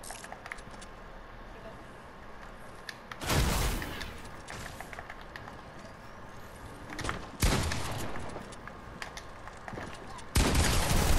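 Fortnite gunfire rings out as three sharp, fairly loud bursts of shots spaced several seconds apart over quiet game ambience, with faint talk in the background.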